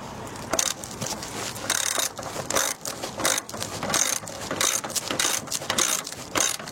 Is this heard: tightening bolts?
yes